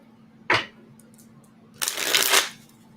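Tarot cards being shuffled in two bursts, a short riffle followed after a pause by a longer, louder shuffle, close and with no voices.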